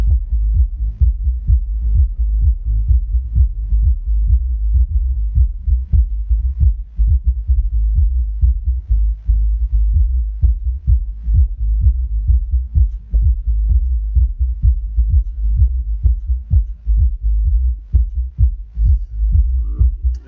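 Music played through a Soundigital SD12000 car audio amplifier under repair testing: a loud, continuous deep bass throb with steady rhythmic pulses and little else above it, running throughout.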